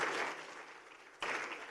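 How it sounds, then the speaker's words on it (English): Audience applause at a large investors' conference hall in Tamil Nadu, a sustained crowd clapping that dips briefly and then swells again. "Audience, one more big round of applause."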